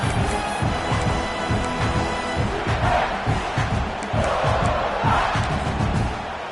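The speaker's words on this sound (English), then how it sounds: "This crowd is trying to inspire this defense to make a big red zone stop." A football stadium crowd roars in a sustained, loud wall of cheering and chanting during a red-zone defensive stand, steady throughout with slight swells.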